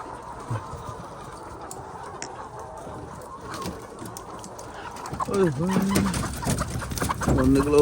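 Layer hens cluck and squawk in a poultry farm at night during egg collection, growing louder and more agitated toward the end while people talk nearby.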